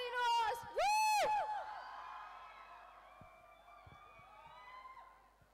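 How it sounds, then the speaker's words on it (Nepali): At a welcome program in Kathmandu, a crowd lets out loud whooping cheers that fall away into a quieter murmur with a few scattered sharp sounds. "Give a big round for her, guys."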